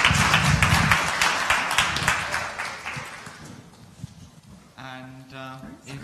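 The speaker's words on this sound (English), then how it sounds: "please give a round of applause for Els" Audience applause bursts out loud and dense, then gradually thins and fades over several seconds, with a voice speaking as the clapping dies away.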